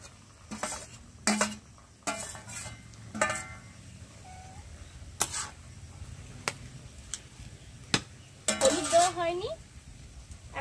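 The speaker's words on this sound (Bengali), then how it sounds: "এখন দিয়ে দিচ্ছি ধুয়ে রাখা কুমড়ো শাক" Washed pumpkin greens go into a cooking pot in a village kitchen, giving scattered clinks of metal against the pot, light rustling and a few sharp knocks, with no talk.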